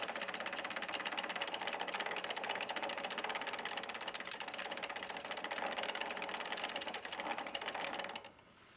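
Sewing machine winding polyester thread onto a bobbin, a quiet, steady whirring mechanical buzz with a fine rapid ticking texture that runs continuously, then cuts off abruptly near the end.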